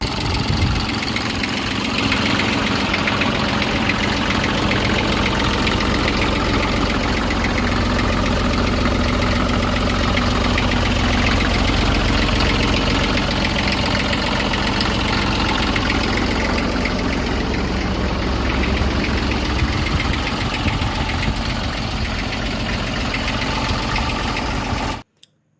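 A 1994 Massey Ferguson tractor engine idles close by. It makes a loud, steady, low diesel chug that runs unbroken for about 25 seconds and then cuts off abruptly.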